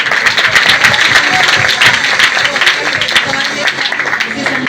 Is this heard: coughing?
no